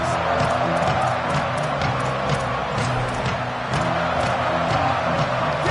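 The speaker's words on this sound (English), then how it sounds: "This crowd ready to make its presence known." Football stadium crowd roaring in a steady, dense wash from start to finish, with scattered whoops and shouts rising above the constant noise.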